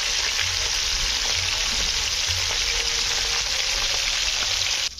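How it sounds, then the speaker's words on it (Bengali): Rohu fish frying in a pan of hot oil, a steady, dense sizzle and crackle that holds at an even level throughout, close and loud, with no talking. "এগুলো এইভাবে লাল করে ভেজে নিতে হবে"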